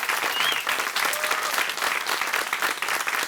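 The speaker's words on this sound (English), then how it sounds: "Round of applause for them." Studio audience on a television chat show breaks into a burst of applause, dense steady clapping throughout, close and full, with no voices over it.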